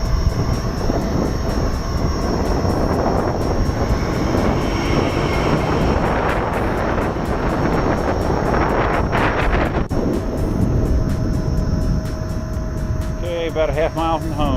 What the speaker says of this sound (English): Got a wind sort of side swiping me right now